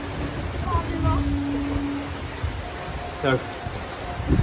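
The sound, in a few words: first rain of the season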